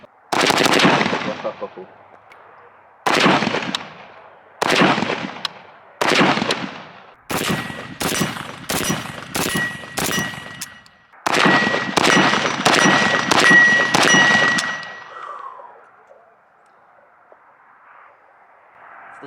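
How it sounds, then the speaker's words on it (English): Rapid bursts of gunfire from a rare early Type 1 AK47 rifle date coded 1950, starting as spaced single or short volleys and building into a loud, continuous string of closely packed shots with metallic ringing, ending with a brief exclamation. "The only 30 rounds I'll ever shoot from a Type 1 AK47, date coded 1950"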